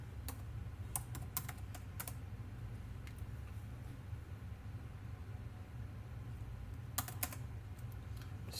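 Terminal commands are typed on a computer keyboard in short bursts of quick clicking keystrokes, with pauses between the runs over a low steady hum.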